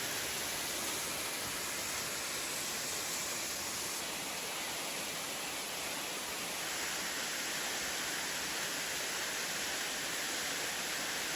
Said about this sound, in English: Here's more of the waterfall as we come down